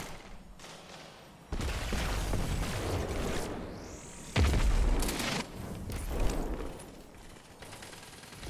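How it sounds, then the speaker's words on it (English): A grenade blast in the shooter game Destiny 2 during a competitive Crucible match, heavy booming bursts with crackling and rushing effects over a steady game soundscape, loud and close, with several surges across the stretch and no speech. "That grenade has big ass radius."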